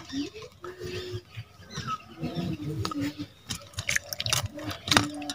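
Tomatoes being washed by hand in a pot of water in a village kitchen, with irregular splashes, drips and sloshing up close that grow busier and louder toward the end, alongside occasional soft clatter.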